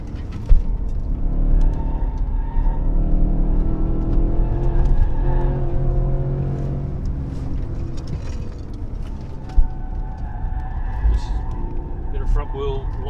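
A roughly 2014 Porsche Cayenne GTS with a 4.8-litre V8 accelerates on a race track, its engine note climbing and shifting steadily from inside the cabin, with sharp knocks near the start and middle.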